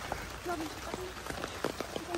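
Heavy rain pours steadily at an outdoor family feeding gathering, a dense continuous wash of drops with occasional louder splatters, while people speak intermittently nearby.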